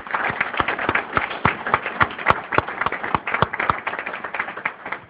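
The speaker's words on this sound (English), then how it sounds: "So if we could give them a round of applause" A small audience claps at a community recognition event. The claps are close and distinct, with individual sharp hits forming an uneven, steady patter throughout.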